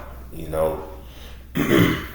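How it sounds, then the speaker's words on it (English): Two rough throat-clearing sounds, one soft and drawn out, then a louder, harsher one after a short pause, close to the microphone. "clearing my throat."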